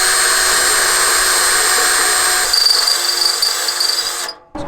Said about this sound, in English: Ball welds are drilled out